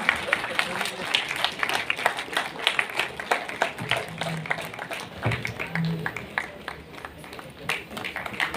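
Audience at a sustainability summit awards ceremony claps in scattered bursts, a loose crackle of applause with a speaking voice running through and over it throughout.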